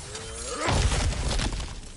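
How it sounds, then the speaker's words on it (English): A character smashes through cracked ground in God of War Ragnarök: a loud crunching shatter of breaking rock and debris that bursts in midway and rumbles on, with no talk. "back to smashing through things for fun and profit"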